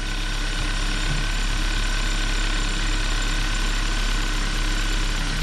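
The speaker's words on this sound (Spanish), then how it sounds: "Solo hay un ruido acá, creo que algo está rozando con la polea" A Chinese engine idles in a Chevrolet Beat, a loud steady drone with a fast ratcheting tick from something rubbing on the pulley, continuous and close with no voices.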